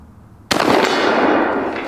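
A Winchester shotgun fires a slug in a single loud, sudden blast that leaves a long ringing, rumbling tail outdoors, with no talk over it.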